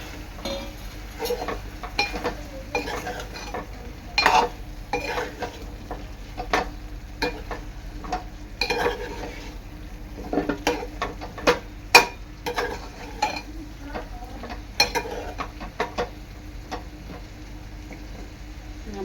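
Potatoes and drumsticks are stirred together in a pan for a Marathi vegetable dish, making a quiet background sizzle broken by frequent scraping and clinking strokes of a spoon against the pan at irregular intervals.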